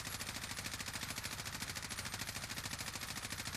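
Sustained automatic gunfire in a first-person shooter video game as a full magazine is emptied while aiming down sights, a dense rapid rattle of shots running steadily without a break and with no talk.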